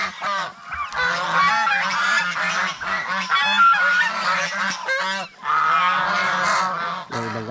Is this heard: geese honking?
yes